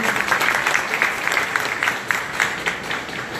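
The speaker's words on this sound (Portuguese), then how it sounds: "Uma calorosa salva de palmas para a professora Deise Duarte." Warm applause from a conference audience, steady clapping of moderate loudness with a few sharper claps standing out, no talking over it.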